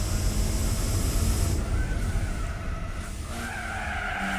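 In Gran Turismo 4, a race car's engine roars continuously while its tires skid and squeal, loud and close throughout with a shift in pitch partway through.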